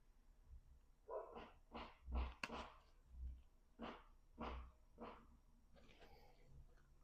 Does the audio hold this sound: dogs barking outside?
yes